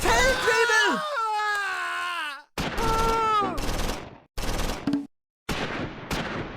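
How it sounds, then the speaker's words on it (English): A medium machine gun fires in bursts in Close Combat 4, a Battle of the Bulge wartime strategy game, with short cut-off volleys alongside a shouted or groaning voice and gaps of silence. "First platoon's medium machine gun now targets German infantry in the open."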